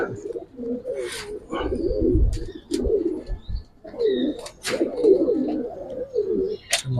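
Giribaz pankhi pigeons coo repeatedly at close range, their low throaty calls rolling in overlapping phrases with a few faint chirps in between.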